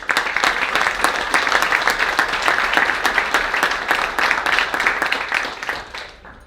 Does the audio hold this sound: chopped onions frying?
no